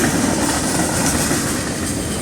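Steady, loud roar of an Amtrak locomotive engine in dynamic braking, holding a constant drone, with broadband rail noise and no pauses or voices.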